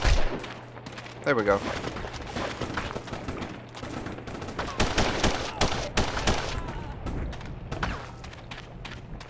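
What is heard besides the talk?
gunfire from the Punisher video game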